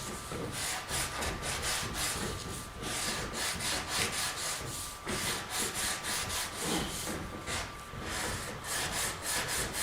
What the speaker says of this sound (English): now I got me a nice bevel sanded on the top of that